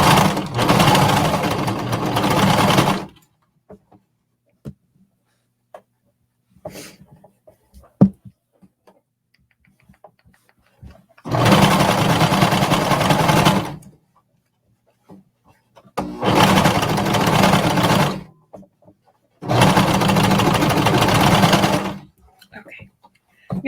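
Sewing machine running in four separate bursts of top stitching through fabric, each lasting about two to three seconds with quiet gaps between them that hold soft handling noises.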